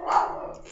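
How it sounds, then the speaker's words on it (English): Dogs growling and snarling as they fight and bite at each other, a short close burst that is loud at first and then trails off, heard alone with no talk. "Sorry for my dogs growling and biting at each other."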